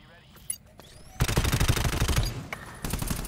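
Rapid gunfire in the co-op shooter video game GTFO: a dense, loud stretch of overlapping shots erupts about a third of the way in and continues to the end, with brief voices over the opening.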